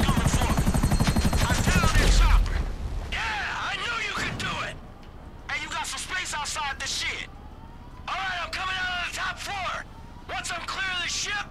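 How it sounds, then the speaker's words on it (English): Attack helicopter in Grand Theft Auto 5 during the Merryweather Heist freighter mission: loud rotor and engine roar that fades after a couple of seconds, then repeated whooshing sweeps and bursts over steady background noise, with talk throughout. "There's an attack chopper coming after me"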